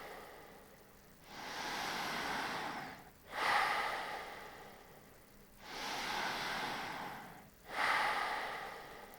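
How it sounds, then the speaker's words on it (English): Powerful breathwork breaths, each a strong airy inhale followed by a relaxed exhale, two full cycles heard close and clear with no talk. "powerful breath in and a relaxed breath out"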